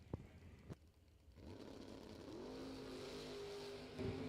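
A 2006 Mustang at a drag race pulls away from the line with a rising engine roar that builds and holds steady at moderate distance, after a couple of sharp clicks near the start.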